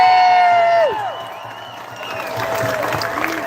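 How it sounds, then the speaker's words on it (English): An outdoor political rally crowd breaks into applause and cheering for Indivisible, a dense wash of clapping and whoops that swells toward the end after a sustained tone fades. "Give Indivisible a big round of applause."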